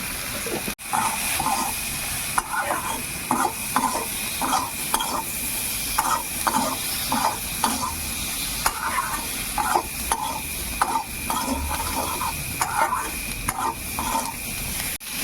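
Spices with salt, turmeric, coriander and cumin powder fry in hot oil while a spoon stirs them in a regular rhythm, steady sizzle and hiss underneath, close and fairly loud, with no talking.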